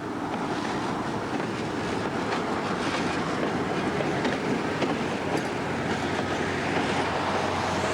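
Paired BB 66000 diesel locomotives manoeuvre in a factory freight yard in 2005, a steady, dense rumble and drone with faint rail clatter running throughout, no voices.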